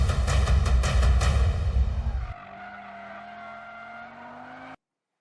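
A 2022 Audi RS3 in Drift mode on a racetrack: a loud engine roar with skidding tire noise for about two seconds, then a fading, steady engine whine as the car pulls away, ending in silence.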